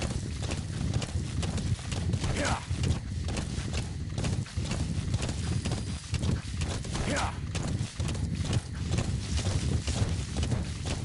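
A horse gallops in the video game Metal Gear Solid V, rapid rhythmic hoofbeats close by and continuing throughout, layered over steady wind and ambient noise.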